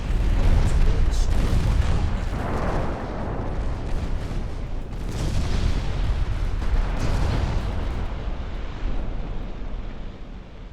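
Warship guns fire salvos in Ultimate Admiral Dreadnoughts, heavy booms and rumbling blasts rolling over one another amid constant battle noise, with a voice talking at times.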